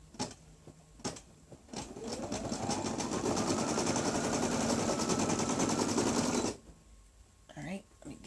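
An embroidery machine stitching an in-the-hoop fully lined 5x7 zipper bag runs as a steady, close, rapid mechanical whir for several seconds, framed by a few clicks and bumps before and after.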